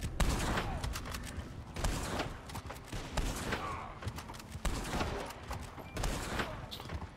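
Rapid gunfire in the online shooter Red Dead Redemption 2, several sharp gunshots cracking in irregular bursts with short gaps, fairly close and loud, with no talk over them.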